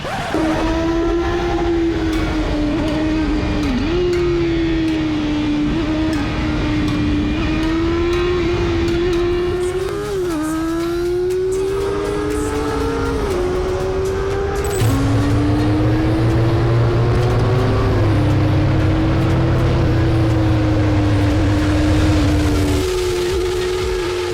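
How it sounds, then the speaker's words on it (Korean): A BMW R1250RS motorcycle pulling away behind a lead vehicle: a steady engine drone with pitch rising and dropping through gear changes, plus constant rushing wind noise, close and continuous for the whole span. "자, 이제 선두 차량을 따라서 출발."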